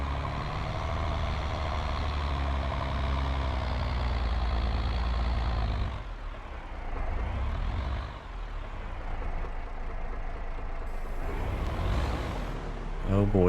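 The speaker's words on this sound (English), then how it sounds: "This tractor has a hard enough time on the hill, but this grinder is fairly heavy." A tractor engine labours continuously as it hauls a heavy wood grinder up a hill in Farming Simulator 22, with a loud, steady drone that dips and swells. A reversing-style beep sounds briefly, and a voice talks over it.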